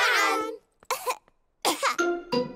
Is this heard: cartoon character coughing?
yes